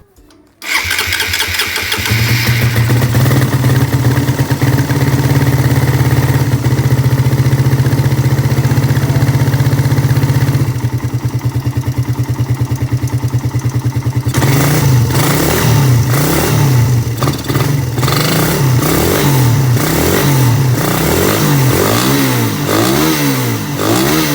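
A cold Suzuki Satria FU carburetor motorcycle engine cranks, catches and idles with a low steady hum, then revs up and down repeatedly in rising and falling surges, loud and close.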